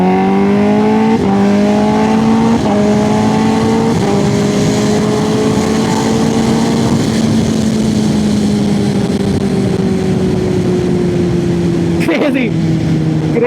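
A stage 2 tuned Kawasaki ZX10R motorcycle revs up in a string of rising engine pulls that shift and climb, loud and close, with a sharp crackle near the end as it settles back.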